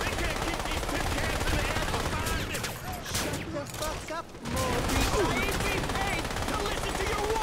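Automatic gunfire in the Crysis Warhead video game, sustained rattling bursts of rifle fire with a short lull midway, while players talk over it.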